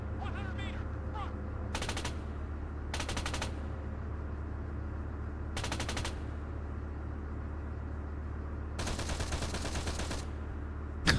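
Bursts of machine gun fire from a gunner in the Arma 3 Warlords military game, several loud sustained volleys spaced a few seconds apart over a steady low engine rumble.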